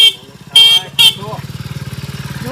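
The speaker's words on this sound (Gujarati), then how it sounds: "અને તમારે નગીનજી બાઈક લઈને જતું રહેવું" A motorcycle gives two short horn honks, then its engine putters and revs steadily as it pulls away in a rural village setting, with voices briefly over the start.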